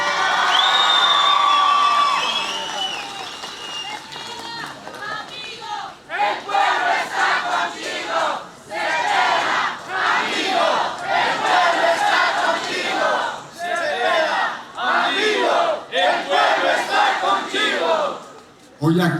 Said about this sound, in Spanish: Un aplauso para la mujer indígena.